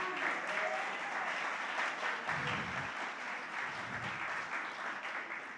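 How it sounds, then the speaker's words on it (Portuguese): A church congregation applauding Jesus, dense sustained clapping from a large crowd throughout, with some voices mixed in. "Você pode dar um aplauso a Jesus por isso?"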